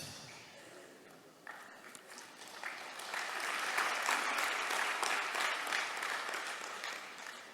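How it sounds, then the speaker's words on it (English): An audience at a spiritual talk breaks into clapping, starting faint and sparse, then swelling into fuller, moderately distant applause that holds to the end. "No, don't clap."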